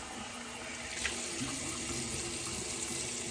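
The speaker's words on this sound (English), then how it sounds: "So just do a quick cold water rinse." Water runs steadily from a bathroom tap into a sink for a cold rinse after shaving, a continuous close hiss and splash with slight gurgling changes and no speech.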